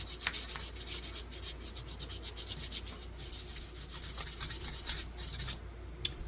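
Hand sanding a knife handle with fine 800 grit sandpaper, a continuous soft rubbing rasp with repeated back-and-forth strokes, close and steady, with no voices.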